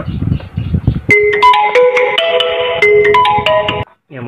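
A phone ringtone from an incoming call interrupts a session of building an egg incubator, a loud melodic electronic tune playing steadily for about three seconds after some background noise, then cutting off abruptly.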